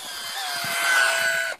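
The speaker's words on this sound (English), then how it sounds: "This is the DeWalt 18 volt." A DeWalt 18 volt cordless power tool runs in a short burst, a steady high electric motor whine that holds its pitch before stopping abruptly.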